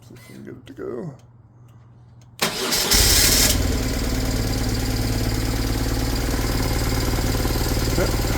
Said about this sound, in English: We did fire it up, and it does start and idle.